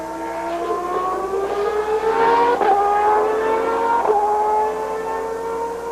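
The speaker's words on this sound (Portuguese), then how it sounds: "Dá para ouvir até a mudança de marcha ali." A Formula 1 car engine screams during practice at the 1993 French Grand Prix, following Alain Prost. The rising, high-pitched whine drops sharply at two gear shifts, each time climbing again, loud and close with no voices.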